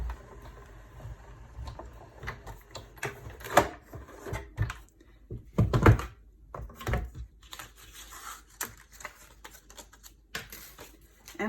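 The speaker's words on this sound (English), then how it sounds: "I'm going to die cut this through" A die cutting machine cuts a Christmas card, giving irregular mechanical clicks, clacks and rustling thumps, quiet with a few louder bursts near the middle.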